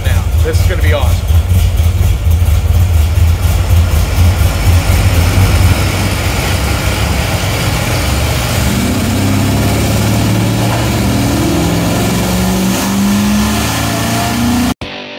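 Chevrolet Corvette C6 Z06 running on a dyno, a loud, steady engine drone that holds near throughout and builds in a rising rev toward the end before cutting off abruptly.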